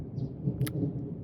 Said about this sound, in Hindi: आप इस पूरे व्लॉग में एक चीज़ नोटिस करोगे, बादल गरज ही रहे हैं